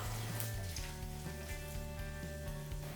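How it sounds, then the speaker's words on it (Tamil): Dried red chillies and curry leaves frying in hot oil in a pan, a loud steady sizzle with a low tonal hum running underneath. "கூடவே 2 கொத்து கருவேப்பிலை இலை சேர்த்துட்டு இதை ஒரு வாட்டி நல்லா கலந்து"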